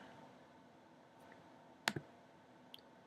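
A single sharp computer mouse click while confirming an OK button, close and dry, with a fainter second tick just after and one more small click later in near-silence.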